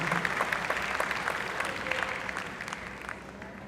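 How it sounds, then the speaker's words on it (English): Audience at a corporate conclave clapping for two team members, a moderate, steady patter of many hands that gradually thins and softens toward the end. "a big round of applause for them"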